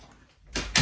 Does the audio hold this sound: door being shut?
yes